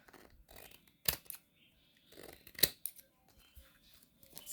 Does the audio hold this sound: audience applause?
no